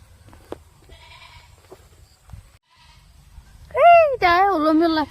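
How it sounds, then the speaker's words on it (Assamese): An unwell female goat gives two loud, close, wavering bleats near the end, after a stretch of faint rustling and soft background noise. "ছাগলীটো বেয়া আছে"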